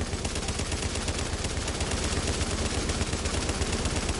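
Sustained machine gun fire in The Division multiplayer game, a rapid, unbroken stream of loud, close bursts rattling on without pause for several seconds.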